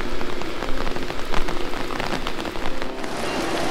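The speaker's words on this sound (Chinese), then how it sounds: "你看现在下冰雹" Marble-sized hail pelts an iron bridge in Ohio's Cuyahoga Valley National Park during a heavy storm, a loud dense continuous patter of many hard impacts with no voices.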